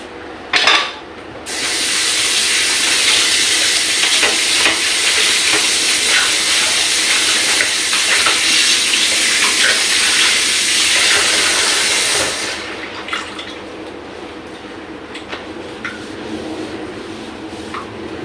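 Hot mung bean and chicken stew poured from a pot into a slow cooker; a loud, steady rushing hiss with scattered clinks of metal for about eleven seconds, then quieter clatter as the pouring stops.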